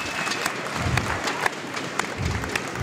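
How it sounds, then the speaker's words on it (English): A crowd applauds at a bowling stepladder final, a sustained wash of clapping with a few sharper individual claps standing out in a steady rhythm. "that's more applause than Chris got for his side"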